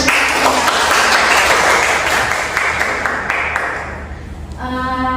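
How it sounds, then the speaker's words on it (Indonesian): A class of students clapping hands together in a steady burst of applause that fades out toward the end, leaving a brief ringing tone. "Tepuk tangan."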